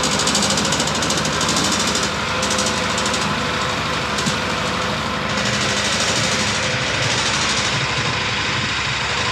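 ATV engine converted to a side-by-side, idling in neutral with a steady, close, fairly loud rumble and a light mechanical rattle, running alone without talk.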